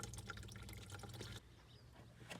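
Fuel and water draining from a fuel filter into a container, a faint steady trickle and splatter of liquid close by, changing to a softer flow midway.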